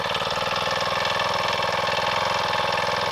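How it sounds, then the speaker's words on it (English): Tractor engine running during yard work at an off-grid cabin site: a steady, close, loud mechanical chug with a rapid regular pulse, continuous and unbroken with no talk over it. "I'm just going to pick up some loose stuff with the tractor and make mowing a little easier"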